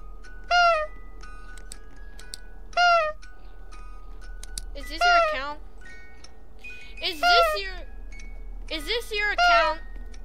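A cat meows in several separate calls spread evenly through the stretch, some single and some paired, moderately loud over a low steady hum from game audio.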